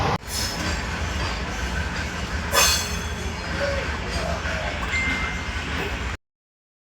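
Coimbatore–Nagercoil express train running at speed, a steady loud rumble of carriage wheels on rails with a brief squeal partway through, heard alone from inside the coach before cutting to silence.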